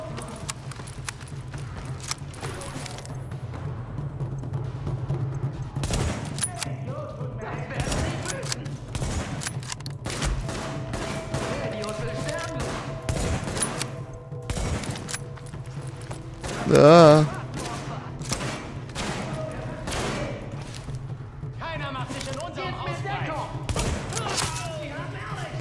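Sniper rifle fire in the shooter game The Division, set in Madison Square Garden: repeated sharp cracks at irregular intervals over a steady low game hum, with a louder burst of noise near the middle and someone talking throughout.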